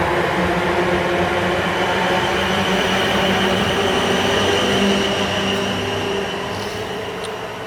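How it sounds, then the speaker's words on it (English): A South Western Railway Class 444 electric train, a pair of units coupled, departs Winchester station with a loud steady rumble and hum of motors and wheels, easing slightly at the end. "going out now is the 1105 South Western Railway service to Weymouth"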